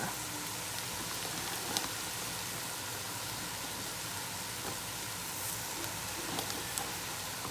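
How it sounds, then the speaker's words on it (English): Uncooked rice sauteing in a pot for a Guyanese beef and lamb cook-up gives off a steady, dense sizzle and crackle that runs without a break, with an occasional louder pop. "So we have our rice. Sauteing here."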